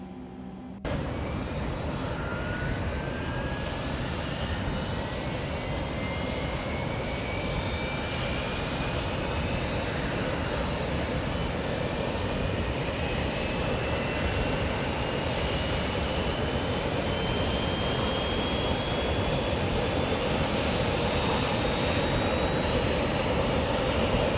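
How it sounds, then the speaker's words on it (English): Legacy 650 business jet engine number one starting up, a continuous loud broadband turbine roar with a high whine that steadily climbs in pitch as the engine spools up, heard alone. "Starting engine 1 to run, give it a few seconds there, and then fire it up."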